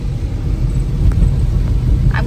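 A car drives along a rain-soaked road between Ashtamod and Nalegaon, its engine a steady low rumble heard from inside, continuous and fairly loud with no talk.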